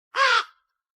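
A crow gives a single short, harsh caw that cuts off abruptly into silence.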